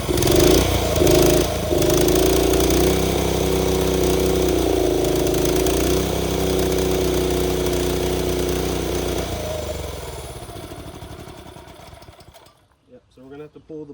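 A TrailMaster go kart engine with clogged carburetor jets runs rough and uneven after winter. The loud, sputtering drone fades out toward the end, and a person talks over it.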